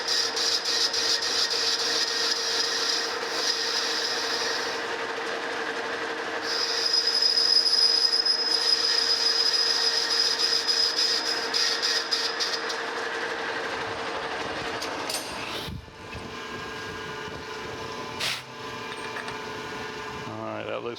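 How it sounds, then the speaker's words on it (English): A lathe cross slide set at about 30 degrees cuts a small chamfer into a metal part, giving a steady, continuous screeching whine that holds for most of the stretch before fading into softer workshop noise near the end. "I will just use the cross slide here. It's set to about 30 degrees. And we'll just put a little chamfer in there."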